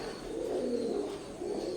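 A pair of teddy-breed pigeons coos steadily, a low continuous throaty murmur close by with no voices.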